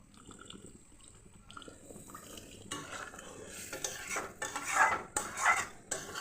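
Water poured into a pan of small fish frying in oil, a soft splashing and sizzling that swells in two louder bursts near the end amid light clinks of a utensil against the pan.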